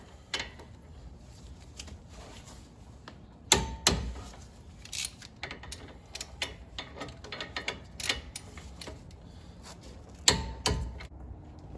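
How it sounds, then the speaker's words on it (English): A torque wrench tightens two 19mm brake caliper bolts to 74 foot-pounds on a 2014-2018 Chevrolet Silverado or GMC Sierra front brake. Faint ratcheting ticks and clicks come in uneven bursts, with a few louder metallic clunks, and there is no talk. "we're going to throw in our two 19mm bolts, and we're going to torque this down to 74 foot-pounds"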